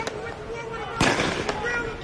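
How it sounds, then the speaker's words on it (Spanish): Police fire gunshots and tear gas at a street protest in Ferguson, Missouri: a sharp nearby bang near the middle, with fainter pops around it, over a steady background of crowd noise and voices. "Gases lacrimógenos y disparos."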